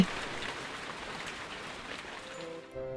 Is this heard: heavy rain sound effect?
yes